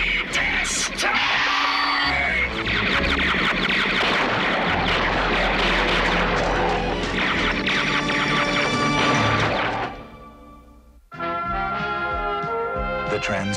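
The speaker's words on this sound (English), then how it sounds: "Soundwave! Fire! And continue firing until Optimus Prime and the Autobots are totally destroyed" Cartoon laser weapons firing and explosions in a Transformers episode, a dense loud barrage of blasts and crashes with yelling, cutting off sharply near the end before a brief musical sting.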